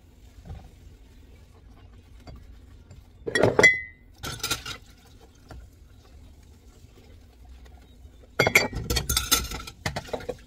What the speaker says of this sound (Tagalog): Hugas naman tayo ng ano ng pinggan.